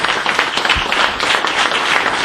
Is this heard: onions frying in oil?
no